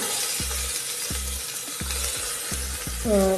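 Onions sautéing in a pan, a steady sizzle broken by regular spoon-against-pan stirring knocks about every half second, close and fairly loud.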